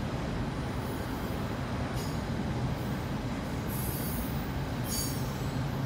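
CSX freight train hauling a long string of auto racks, a steady rolling rumble and rattle of railcars passing with occasional high metallic wheel squeals.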